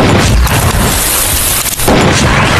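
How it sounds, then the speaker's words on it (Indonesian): Gunfire booms through a tense shootout in the Western film Bone Tomahawk: loud, dense blasts and reverberant crashes packed close together with no pauses. "terjadilah baku tembak yang menegangkan"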